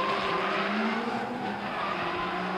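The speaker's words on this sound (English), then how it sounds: "it's the Black Bull Liquor R32 Skyline of Gargankang out on track for his second run of the night" A Nissan R32 Skyline drifts around Baypark Stadium during a 2019 D1NZ Pro Championship qualifying run, its engine wailing steadily with tire squeal over a continuous roar and no voices.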